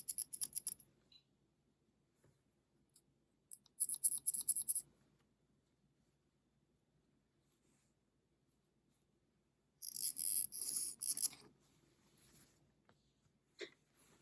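Fabric being marked for a topstitching line, with short bursts of scratchy marker or chalk strokes separated by long quiet gaps, close and faint.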